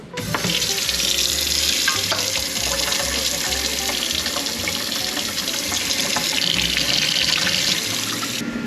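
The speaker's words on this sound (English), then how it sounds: "Turn the hot water on." Hot water runs steadily from a faucet into a sink after frozen pipes, a continuous close rushing splash at an even level from start to finish.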